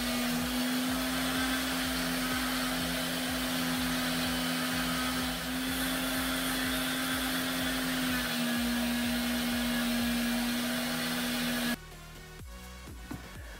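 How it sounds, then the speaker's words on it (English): Power tool grinding away material to shape the tail section of a MIG 15 model, a steady loud whine with a constant tone that runs for about twelve seconds before cutting off into quieter rattling. "I'm grinding all that out to make the tail section."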